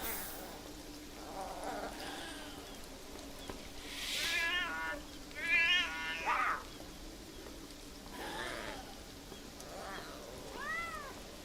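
In the video game Beyond Eyes, a cat gives several soft, short meows spread across calm, quiet ambient game sound.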